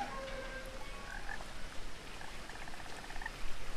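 Frog croaking in the video game What Remains of Edith Finch, faint rippling croaks over a steady hiss of night ambience with light pattering.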